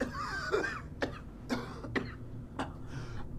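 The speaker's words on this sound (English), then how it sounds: "Cough, cough, gasping." Fallout 4 video game character coughing and gasping, a short run of about five separate harsh coughs with a breathy gasp at the start, fairly quiet and alone without talk.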